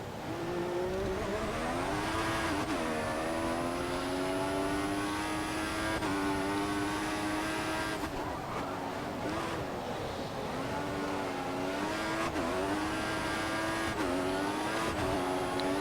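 An F1 car engine in the video game F1 2014 at the Hungarian Grand Prix screams loudly, climbing through the revs with repeated sharp upshifts and brief dips, close and continuous.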